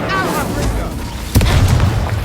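Confringo blasting spell in Hogwarts Legacy, a deep booming explosion that hits suddenly partway through and rumbles on, following a brief stretch of spell whoosh and a spoken incantation.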